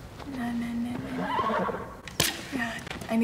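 A horse neighs in the PS4 remake of Shadow of the Colossus, two loud, near whinnies with a sharp snort between them and faint hoof clip-clop beneath.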